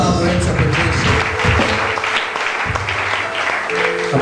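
A church congregation breaks into sustained clapping and cheering, a dense, lively wash of applause lasting several seconds with voices mixed in.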